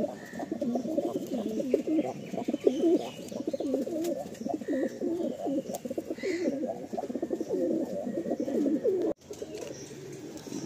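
Madrasi and Andhra pigeons cooing continuously at close range after being released from a loft, a dense, steady chorus of throaty coos with occasional soft chirps.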